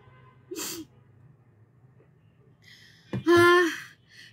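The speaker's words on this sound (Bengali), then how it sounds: "এই প্রথম লাইভে আমার এরকম কাশি উঠলো।" Two sharp, explosive coughs from one person, close up, separated by a few seconds of quiet; the second is louder and longer.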